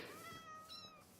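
Cat meowing in the video game Minecraft, a single clear drawn-out meow, faint and heard alone.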